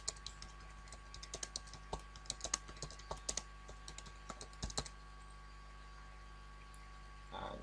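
Irregular bursts of keystrokes on a computer keyboard as C code is typed, quiet and close, with pauses between runs and low background hiss.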